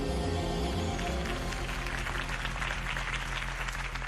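Crowd applause after a campaign speech in Batman: The Telltale Series, a dense, steady wash of many hands clapping, loud and continuous throughout over a low music bed.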